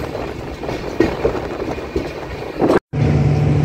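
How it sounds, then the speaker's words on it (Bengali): A vista-dome tourist express train pulling into Hasimara junction rumbles loudly with rhythmic rail clatter, then cuts out briefly before a steady hum resumes. "আমাদের ট্রেন এসে পৌঁছলো হাসিমারা জংশনে"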